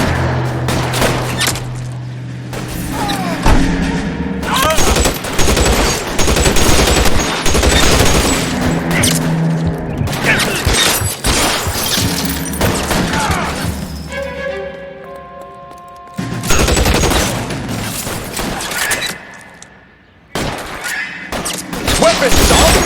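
Sustained gunfight in L.A. Noire, with bursts of automatic fire, single shots and crashes; shouted voices break in now and then, with a short lull near the end before the shooting resumes.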